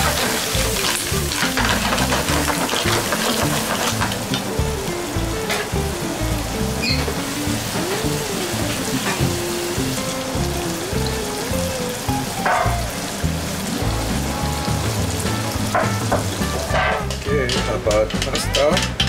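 Octopus and shrimp fry in a pan for a seafood fusilli bianco, giving a steady, continuous sizzle that runs throughout beneath background music.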